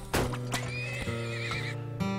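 Horses in the video game Turmoil give a loud, drawn-out whinny with a wavering high pitch, set over a steady game soundtrack hum and a few sharp hoof-like knocks.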